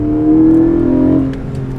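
A Porsche 718 Boxster 25 Years GTS 4.0 blips its engine on a rev-matched downshift, one loud close surge of revs that quickly settles back to a lower hum.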